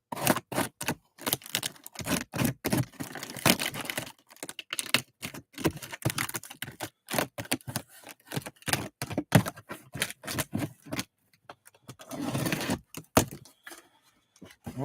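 A blade slicing carefully through a cardboard box, a rapid string of sharp close scraping and ticking strokes with short pauses between bursts.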